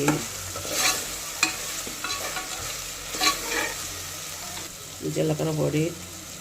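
Coriander and cumin powder being stirred into a frying curry, with a soft sizzle under scattered spoon scrapes and clinks against the pan, nearby at moderate volume, and a brief murmur of background sound near the end.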